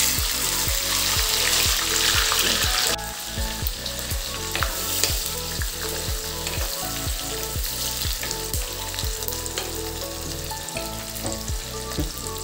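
Chopped onion and tomato drop into hot oil with cumin and a bay leaf for a spicy taro curry, setting off a loud burst of sizzling that settles into steady frying with repeated scraping and stirring.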